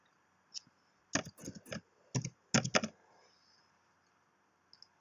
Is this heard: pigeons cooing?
no